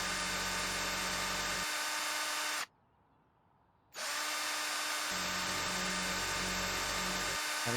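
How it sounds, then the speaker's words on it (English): A power drill whirs in House Flipper 2, a loud steady motor drone that runs for several seconds, cuts out abruptly to near silence, then starts again with a similar sustained whine. "Okay, another drilling session."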